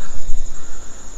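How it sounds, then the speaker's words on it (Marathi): Crickets chirp at night on a foggy hilltop campsite above Madhe Ghat waterfall, a dense, steady high-pitched trill that fills the whole moment with no talking. "अंधार काळोख आणि मस्त रातकिड्यांचा आवाज येतोय"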